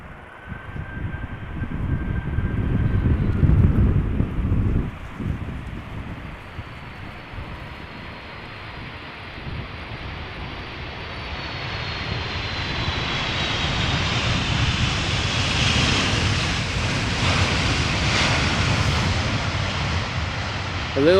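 An airplane engine drones steadily during a crosswind landing at Amsterdam Schiphol Airport. The rumble is broad and continuous, with a whine that slowly rises, and wind noise runs underneath.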